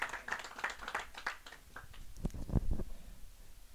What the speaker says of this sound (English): please give your warmest applause to Norma Winarsky.